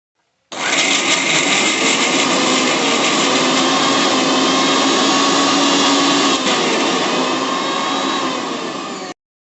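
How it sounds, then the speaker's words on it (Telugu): A mixer grinder whirs steadily, blending cumin, garlic and green chillies for tomato chutney. The loud, continuous motor drone runs for roughly nine seconds and then stops abruptly. "జీలకర్ర, వెల్లుల్లి, పచ్చిమిర్చి గ్రైండ్ చేసేసుకుందాం."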